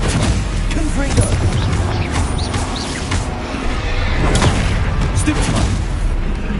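Bombarda and Confringo spell blasts in the Hogwarts Legacy video game, a dense continuous wash of booms and crashes layered under steady talk.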